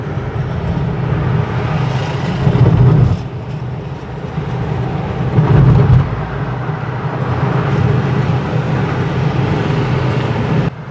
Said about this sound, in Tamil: நியூட்ரலில் போயிட்டுருக்கு அதாவது இப்போ வீல் வந்து ஃப்ரீயாக இருக்குது என்ஜினோட எந்த தொடர்பும் கிடையாது